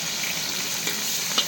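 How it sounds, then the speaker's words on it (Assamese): Chopped onion and green chili fry in a pan with a steady, close, bright sizzle and soft bubbling that holds even throughout. "এতিয়া পিঁয়াজ জলকীয়াটো ধুনীয়াকৈ ফ্ৰাই কৰি লওঁ আগতে।"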